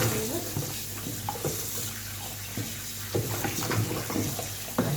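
Tap water runs steadily into a sink while raw pork is washed for a glazed pork dish in sorrel sauce, a close, continuous splashing stream with small clatters of handling.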